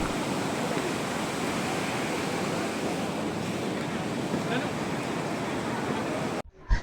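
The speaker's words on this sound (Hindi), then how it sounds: "ये पानी ऊपर से बहती हुई आती है और लोग इसमें नहाते भी है।" Clear mountain stream water rushes down on the Kedarnath Yatra route, a loud, continuous broadband roar close by with no break, cutting off abruptly near the end.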